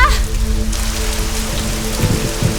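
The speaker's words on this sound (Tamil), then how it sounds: "திடீர்னு மழை வந்து பூரா நனைஞ்சு வச்சு" A sudden rain shower pours down loudly and steadily, drops hitting surfaces in a dense continuous patter, with no talking.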